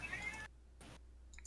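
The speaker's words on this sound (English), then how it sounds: "that's my cat in the background" A pet cat named Shadow meows in the background, two brief faint calls a moment apart following a low background murmur, distant and soft against a quiet room.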